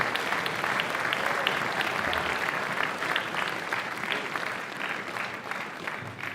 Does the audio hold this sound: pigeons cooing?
no